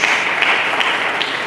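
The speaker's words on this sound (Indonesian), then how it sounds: "Mari kita berikan tepuk tangan bagi Yesus Kristus." A crowd applauds steadily and loudly during a church sermon, a dense, continuous wash of clapping that holds at an even level throughout.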